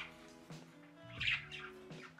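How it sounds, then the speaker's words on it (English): Nine pet birds chirp in a cage, giving a few quiet, scattered tweets with one brighter squawk in the middle. "So, with 9 birds in the cage, that is what you'll get."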